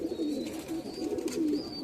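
Madras pigeons at a home loft in Mecheda, Purba Medinipur, coo in low, repeated rolling calls, close and clear with no talking.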